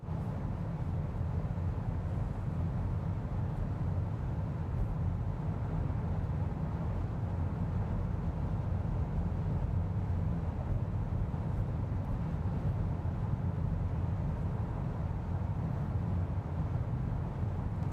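Steady low-pitched road and engine drone inside a Renault Espace hybrid cruising at 120 km/h, a constant moderate cabin rumble with tyre noise and no talking.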